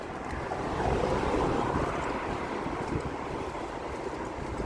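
Steady wind roars and buffets the microphone throughout, a continuous rushing noise with no voices.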